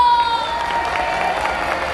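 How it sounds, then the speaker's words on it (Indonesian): Junior high students in a classroom competition applaud a classmate with light, scattered clapping and some cheering, with a few voices mixed in. "Tepuk tangan untuk Rina."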